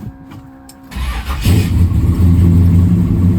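A 1969 Chevrolet Chevelle SS V8 engine cranks briefly, then catches and roars to life, settling into a loud, deep rumbling idle close by.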